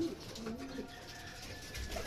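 Soft, low cooing of racing pigeons under steady background hum, a few murmured calls spread across the moment, during club training in Cabanatuan, Nueva Ecija.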